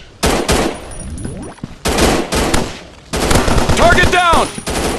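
Loud, rapid bursts of automatic gunfire in an FPS shooting game on Android, coming in three long volleys with short gaps between them, with some game voice effects mixed in.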